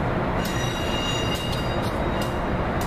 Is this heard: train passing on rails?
yes